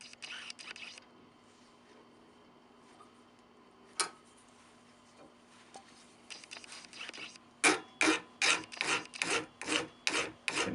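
Steel needle ends trimmed in a cork-cutting project are filed smooth. Faint scraping rubs and a single sharp tick come first, then a close run of about eight loud, rhythmic rasping file strokes.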